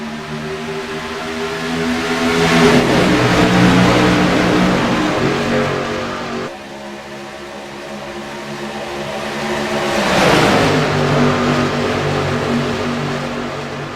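Race cars roar past at Auto Club Speedway during a sportsman series race, two loud engine passes rising and falling with Doppler sweeps, one after another, with a steady drone between them.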